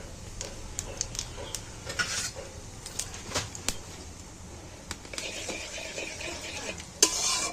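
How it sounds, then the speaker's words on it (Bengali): Whole cumin seeds dropped into a few spoonfuls of hot oil in a wok, giving a light sizzle with sharp metallic clinks and scrapes of a spoon against the pan, fairly quiet and close. "জিরে গোটা করতে গরম তেলের উপরে দিয়ে দিন।"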